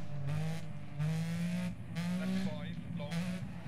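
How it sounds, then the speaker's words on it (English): A rally car engine in the video game Dirt Rally revs and climbs through gears in a repeated rising, buzzing whine with brief drops between shifts, loud and close, with a voice talking over it. "I love the sound of this car."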